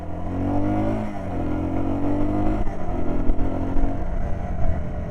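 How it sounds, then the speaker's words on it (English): Car passing by on a countryside trail, heard near a Yamaha TW200 motorcycle, a loud engine drone with shifting pitch that rises and falls as the vehicle goes past, amid rough wind noise. "Car going."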